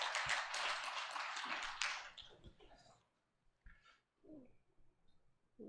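A church congregation claps during a Sunday morning worship service, a dense burst of applause that lasts about two seconds and then fades, followed by a few scattered taps and quieter room sounds.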